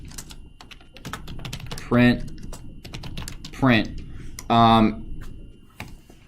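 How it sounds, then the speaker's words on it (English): Rapid computer keyboard typing clicks steadily and closely while writing code, with a few short bursts of speech breaking in between the taps. "if you just start typing away print"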